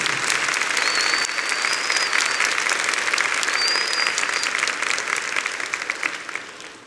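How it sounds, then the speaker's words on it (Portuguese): A large crowd applauds during a religious gathering, producing a dense, sustained roar of clapping that holds steady and then gradually fades, with a few faint whistles or tones on top. "Vamos aplaudir o sistema Canção Nova de comunicação."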